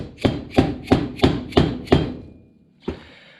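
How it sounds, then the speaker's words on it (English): A dead blow hammer taps a hinge pin on a Toyota FJ40 ambulance door six times in an even rhythm, close and solid, followed by a pause and one last lighter tap. "Give it a push down the last little bit just with a dead blow hammer"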